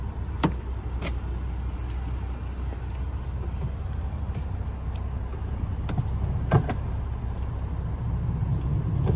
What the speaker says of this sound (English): it has soft closed doors